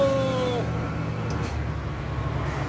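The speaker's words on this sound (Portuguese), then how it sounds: "Você tá dando um ronco mais bonito, o freio motor." Scania truck engine brake roaring through a direct exhaust valve, a steady low rumble with a fading tonal whine at the start, continuous and fairly close throughout.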